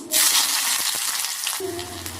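Chopped onion hits hot oil over tempered mustard seeds and sizzles loudly at once, a dense steady hiss with a softer crackle, and a low hum joining near the end.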